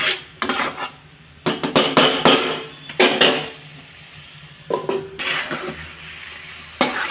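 A vegetable stir-fry being turned in a pan with a spoon: bursts of metal scraping and clanking come in uneven clusters, with a light sizzle underneath and short quiet gaps between strokes.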